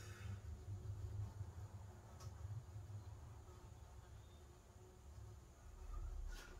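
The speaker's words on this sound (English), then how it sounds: "I've got this bee coming here from the window because summer is coming." A bee or wasp buzzes faintly near a window indoors in early summer, a thin continuous drone that rises and fades as it moves, over a low background hum with no speech.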